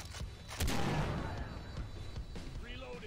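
Gunshots in the video game Far Cry 3, a cluster of booming, crackling shots with one heavy burst early on, then scattered distant reports amid game noise and a brief voice.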